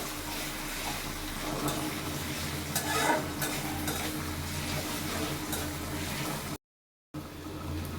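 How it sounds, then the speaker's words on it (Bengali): Dried red chillies and other ingredients fry in hot oil in a pan, making a dense, even sizzle with some soft scraping, fairly close; the sound briefly cuts out near the end. "এটা আমি খুব ভালোভাবে ভেজে নিব বাদামি কালার করব শুকনো মরিচটাও ভালোভাবে ভাজবো"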